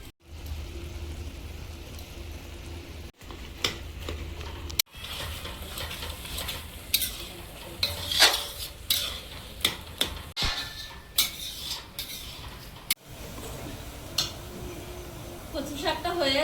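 Taro greens cooking with prawns, grated coconut and salt get stirred in a pan, with a steady low sizzle under repeated scraping and clanking of a utensil against the metal, plus some talk.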